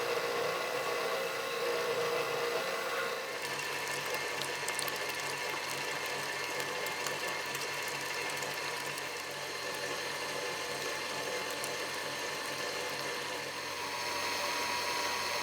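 An electric mixer whips egg whites for angel food cake, a steady faint whirring and rattling hum that runs continuously throughout, with no talk.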